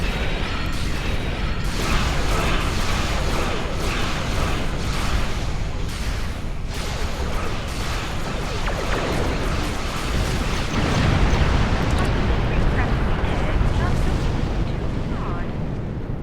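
Starship weapons fire on an asteroid and break it apart in the Star Trek Online space combat game, a dense, continuous roar of blasts and rumbling explosions that stays loud throughout, with a voice speaking over it.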